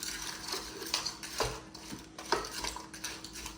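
Frozen butternut squash melting in a pot for a healthy mac and cheese as it is stirred: faint scraping and clinking of a utensil against the pot in irregular strokes, with a soft sizzle underneath.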